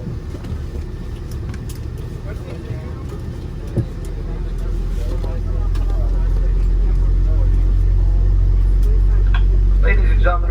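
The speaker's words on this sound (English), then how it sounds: "The engines were very audible on this flight" Steady low engine roar and rumble heard from inside the economy cabin of an American Airlines Boeing 777-300ER, growing louder partway through and holding a constant drone.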